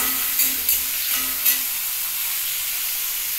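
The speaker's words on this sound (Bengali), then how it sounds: "গাজর আর আলু একসাথেই আমি সাদা তেলের মধ্যে ভেজে নিচ্ছি।" Diced carrots and potatoes fry together in white oil for a vegetable semolina upma, giving a steady bright sizzle with a few stirring scrapes and clinks early on, close and continuous, with no talking.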